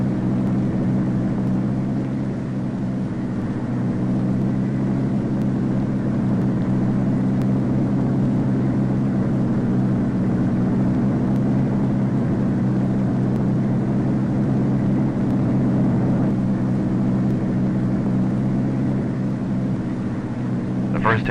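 Convair XF-92 delta-wing jet aircraft taking off, a steady low engine rumble that stays even throughout, with a narrator's voice over it.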